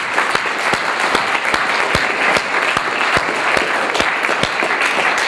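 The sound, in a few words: audience applause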